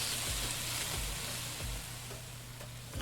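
Onions and chilies sizzle steadily in a frying pan in the cooking game Venba, a continuous hiss with soft low thumps recurring about every second, moderately loud and with no talking.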